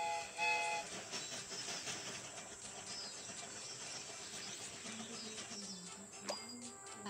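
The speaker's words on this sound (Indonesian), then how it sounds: "Kereta ini akan segera berangkat." Toy-like train departing in a Baby Bus children's video game, a soft, steady rumble with faint whistle-like tones running the whole time at low volume, with a brief louder burst near the start.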